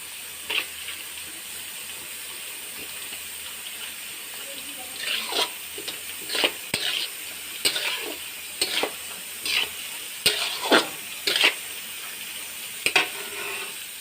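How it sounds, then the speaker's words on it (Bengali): Cashews and raisins frying in a pan with carrots and beans: a steady low sizzle, then repeated sharp scrapes and stirring clatters from a spatula in an irregular rhythm, close up. "গাজরটা বিনসটা ভেজে নিয়েছি তারপরে কাজু কিশমিশ দিয়ে একটু ভাজা ভাজি করে নিচ্ছি"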